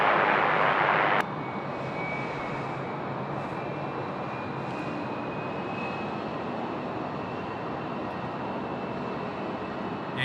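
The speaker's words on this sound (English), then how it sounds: "here comes my right, favorite sounding aircraft" A plane at Sydney Airport, heard as a steady, loud engine roar that holds for several seconds after a brief burst of broadband noise at the start.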